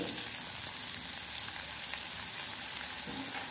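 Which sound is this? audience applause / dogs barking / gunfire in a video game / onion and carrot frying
onion and carrot frying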